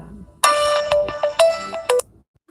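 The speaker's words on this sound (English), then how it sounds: "it's my phone." A mobile phone ringtone plays loud and close: a bright electronic melody of several short repeated bursts, then it stops and quiet follows.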